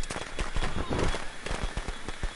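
Fireworks thrown in a video game go off as a rapid run of sharp crackling pops and bangs, loud and close, filling the whole stretch with dense bursts.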